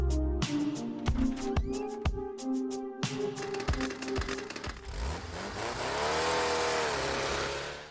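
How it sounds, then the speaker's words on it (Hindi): A cartoon vintage motorcycle starts up and runs on its own: sharp percussive knocks give way to a rising, continuous engine drone that grows loud and steady toward the end, with no talking. "ये बाइक दी आवाज क्यों आ रही है?"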